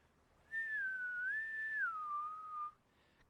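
A single voice whistles one long, wavering, eerie tone for about two seconds, rising and falling slightly, imitating a strange sound echoing through deep tunnels. It is fairly clear and close, with no talk over it.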